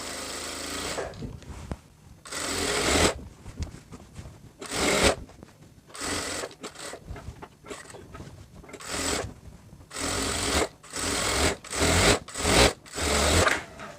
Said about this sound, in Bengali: আমি এইভাবে ধরে সেলাইটা দিয়ে নেবো